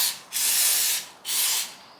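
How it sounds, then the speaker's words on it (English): Two short hissing bursts of aerosol fogging oil sprayed into a seized chainsaw engine, each lasting under a second, close up, with a brief pause between them. "Might as well spray a little bit of this fogging oil."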